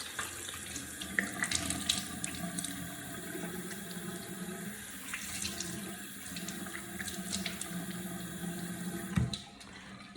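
Tap water runs steadily into a sink during face washing, a close, continuous splashing stream with small spatters and shifts as hands move under it, cutting off near the end.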